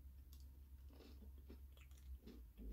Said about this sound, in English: So they chew down really nice.